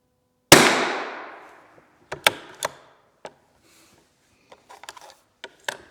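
A rifle fitted with a OneLeaf Commander NV400 digital day/night vision scope fires a single loud, close report with a trailing echo, followed by a few small mechanical clicks and taps.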